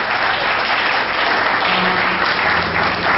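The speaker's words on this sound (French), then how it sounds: "applaudissez pour nous s'il vous plaît" Wedding guests applauding during a civil marriage ceremony, a loud, dense and steady wash of many hands clapping close by, with faint voices underneath.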